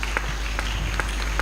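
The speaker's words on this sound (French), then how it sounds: "Applaudissons pour la gloire du Seigneur." A church congregation claps together in a steady patter of applause over a loud low hum, with faint voices mixed in.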